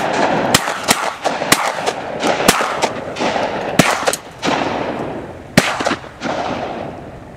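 Shotgun blasts during a Texas duck hunt: a rapid volley of loud, close, sharp reports from several guns, fired in quick irregular succession outdoors.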